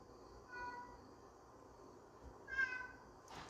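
A cat meows twice, faint and drawn out, in a quiet room in a woodworking shop during work on a reclaimed mahogany desk, with a low background hum.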